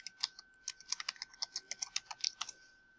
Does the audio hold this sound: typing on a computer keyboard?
yes